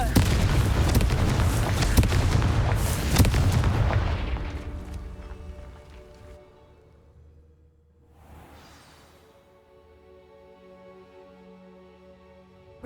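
Confringo blasting spells in Hogwarts Legacy burst in a rapid run of loud, sharp explosions at the start, trailing off into a quieter rumble with one softer blast after a pause.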